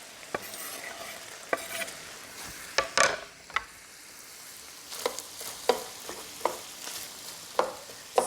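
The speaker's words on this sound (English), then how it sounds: "add the onion that I just chopped. And I'll break up the pieces a little bit in the pan here" Chopped onion and sausage fry in a pan while being stirred and broken up, with scattered scraping clicks and stirring knocks over a steady low sizzle, close and fairly quiet.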